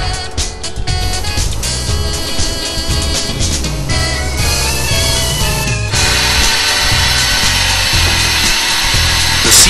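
Solid CHL2515A circular saw cutter slicing through metal bar stock, a loud continuous grinding whine with shifting metallic tones and no voices.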